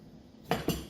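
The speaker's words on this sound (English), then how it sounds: "Oh, balls! I dropped an onion!" An onion dropped in a kitchen where guacamole is being made lands with two quick, faint knocks in quick succession after a quiet moment.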